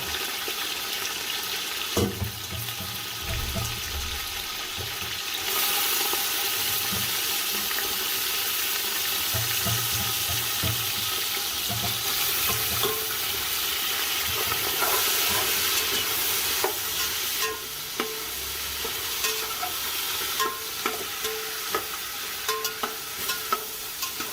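Mutton for yakhni pulao fries in a pot, giving a steady loud sizzle with repeated scraping stir strokes throughout and no voices.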